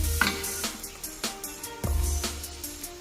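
Flattened rice (chira) is stir-fried in a pan with salt and turmeric, with repeated close spatula scrapes and taps at a fairly regular rhythm over a soft, low sizzle.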